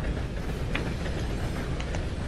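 Steady low rumble of a train rolling along a railroad track in the Red Dead video game, continuous and fairly loud throughout, with a few faint metallic clanks on top and no voices.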